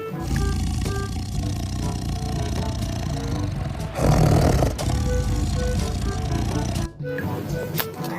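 A lion roars in a steady, loud rumbling swell lasting several seconds over music, with a brief louder burst near the middle.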